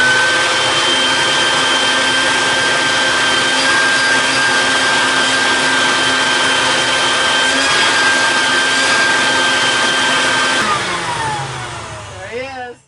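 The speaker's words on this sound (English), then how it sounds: "In the end, Jules gets a quick shop vac to get rid of all the loose hair." Shop vac running steadily on board a boat to clear loose hair after a haircut, a loud continuous motor whine with a high tonal hum that winds down and fades near the end.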